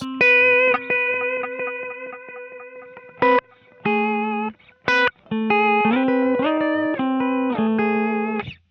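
An electric guitar through a Kemper profiler with its reverb switched off plays dry, tightly cut chord stabs and short riffs, with abrupt stops and silent gaps between phrases, loud and without voices.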